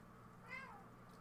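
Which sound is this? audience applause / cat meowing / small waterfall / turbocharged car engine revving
cat meowing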